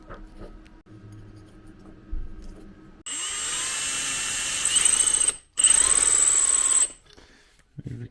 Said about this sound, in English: go in and drill these brackets so that these rivets fit in there.